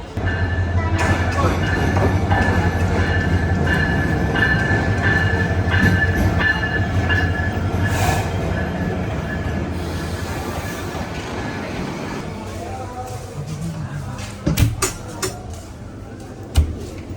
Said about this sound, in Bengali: তো আমরা বিমানবন্দর রেল স্টেশন থেকে ট্রেনে উঠে গেলাম।